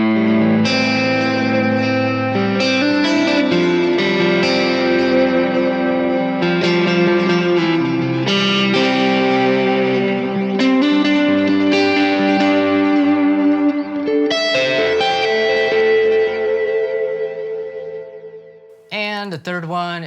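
Electric guitar run through a Kemper Divided Worship profile, ringing chords and lines washed in echo and reverb that swell loudly, then decay near the end before a brief voice cuts in.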